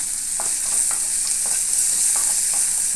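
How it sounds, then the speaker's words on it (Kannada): Chopped onions fry with cumin and curry leaves in hot oil for a raw mango dish, giving a steady close sizzle with a few soft stirring scrapes and no voices. "ಫ್ರೈ ಮಾಡೋಣ್ರಿ ಇದನ್ನು ಉಳ್ಳಾಗಡ್ಡಿನ"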